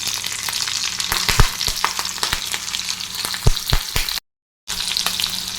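Dried and green chillies frying in a pan with mustard seeds and urad dal, a steady close sizzle broken by frequent pops and crackles, with no voices.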